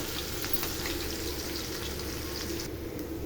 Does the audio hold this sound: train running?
no